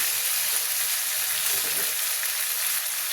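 Potatoes fry in a pan with ginger-garlic spice paste, giving a steady, loud, continuous sizzle that fills the whole stretch with no voices.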